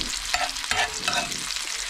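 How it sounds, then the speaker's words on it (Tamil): Finely chopped onions sauté in hot oil with a steady close sizzle, broken by soft scraping stirs of a spoon in the pan. "வெங்காயத்தை குட்டி குட்டியாக நறுக்கி கொஞ்சம் லைட்டாக வதக்கி எடுத்துக்கோங்க"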